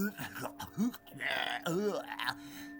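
A man belches repeatedly in short, low, groaning bursts, loud and close, in a relaxed bedroom chat, with speech-like voicing mixed into the burps.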